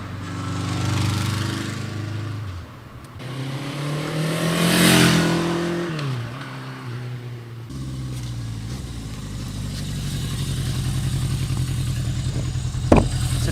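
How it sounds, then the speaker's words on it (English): A 1979 Yamaha XS1100 Special motorcycle engine running on a ride in Connecticut, a steady near rumble that swells as the throttle opens, eases off, then settles into a constant drone, ending with a brief knock. "Beautiful day for a ride on a classic Yamaha."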